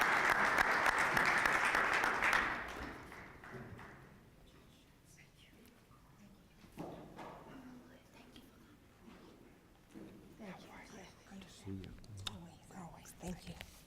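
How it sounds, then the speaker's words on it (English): An audience at a restorative justice summit gives a state representative a burst of dense applause lasting a couple of seconds, which fades into a quiet hall where a speaker begins talking. "Give her a big round of applause"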